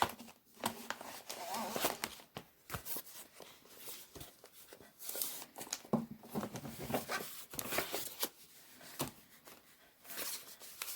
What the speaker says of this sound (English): Let me get my envelopes out